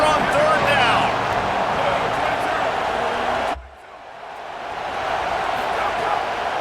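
Stadium crowd noise at an Auburn college football game in College Football 27 roars loudly and steadily, with voices over it, then drops sharply partway through before swelling back up.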